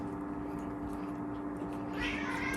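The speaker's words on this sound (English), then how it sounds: "That was a cat." A cat meows in a kitchen, a brief, fairly faint cry near the end, over a steady electrical hum and background room noise.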